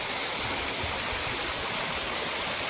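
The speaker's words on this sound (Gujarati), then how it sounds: "અહીંથી ડાયરેક્ટ પાણી આવે છે, એ ડાયરેક્ટ સીધો અમારી વાડી પર જાય છે" Water runs through a channel toward a farm in a steady, close, gurgling stream that stays continuous and alone throughout.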